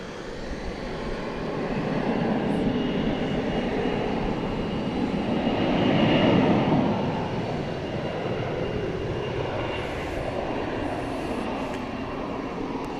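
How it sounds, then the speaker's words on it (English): An American Airlines Airbus A321 departing Dallas Fort Worth at night for Portland, Oregon, gives off a steady broad jet roar that swells midway and then eases slightly, heard from a distance with no talk. "It's an Airbus A321 going to Portland, Oregon. Flight 2567, American Airlines."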